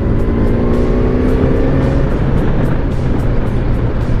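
Loud, continuous engine roar of a superbike being ridden on roads in Chandigarh, with steady tonal drone and wind rush, no talk.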